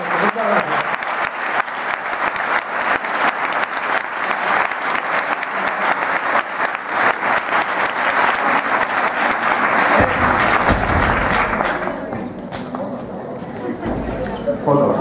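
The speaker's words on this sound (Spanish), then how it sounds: "un aplauso para ellos" Sustained, dense applause from an audience at a 2014 sports gala in Trujillo, loud and continuous clapping that thins slightly near the end.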